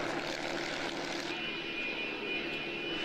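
A C-17 military transport aircraft circles overhead, its steady jet engine roar held as a continuous, moderately distant rumble with a faint whine throughout.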